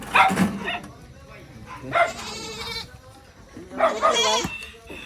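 Native goats bleat in bursts, three loud calls spaced a second or two apart, close by with quieter background noise between them.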